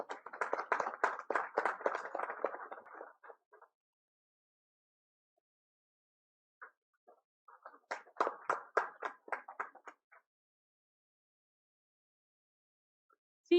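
Audience clapping at the JKO Udaan competition, a short burst of hand claps that fades out, then a second, thinner round a few seconds later.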